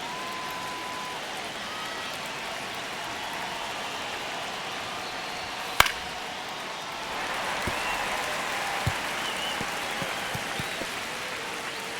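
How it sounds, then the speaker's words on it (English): Stadium crowd in MLB The Show 25 during a ninth-inning Rays versus Guardians game, a steady distant roar of cheering and applause that swells partway through, punctuated by a sharp crack and a few faint knocks. "Crowd locked in right now."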